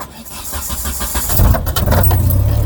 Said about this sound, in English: But if you turn on the ignition